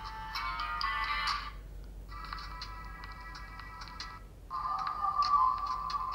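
Ringtone melody from a Soyes S10I mini smartphone played through its tiny earpiece speaker, thin and tinny, in three bursts separated by brief pauses, alone without talk.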